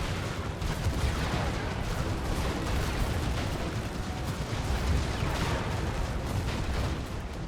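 Units in the real-time strategy game Sanctuary Shattered Sun trade weapons fire in a dense, continuous battle roar, with overlapping shots and distant booms sustained at steady loudness throughout.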